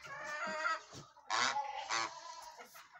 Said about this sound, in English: She is half African goose and half white Chinese goose.